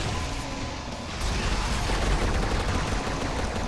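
The Unmaker weapon fires in Brutal Doom, a dense, continuous barrage of rapid crackling blasts and mechanical clatter, loud and unbroken from start to finish.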